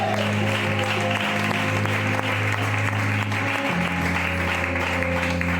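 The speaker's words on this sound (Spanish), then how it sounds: "En el nombre de Jesús, aplaude con toda tu fe." Congregation clapping along at a church sermon, a steady dense applause over a sustained low musical drone and tones, loud and continuous throughout.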